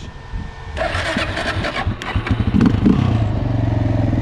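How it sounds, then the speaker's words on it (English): A quad bike engine is started and then opened up to full throttle for a wheelie, with loud, close revs climbing in uneven bursts before settling into a rough, sustained roar. "now I'm gonna show y'all how to pick the bike up all gas without using the clutch"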